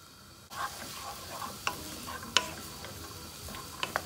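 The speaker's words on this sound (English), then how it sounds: "the onion and celery have been sauteing for about 5 minutes" Chopped onion and celery sauteing in butter in a frying pan, a soft steady sizzle with a few sharp clicks and scrapes of stirring, quiet and close, no voices.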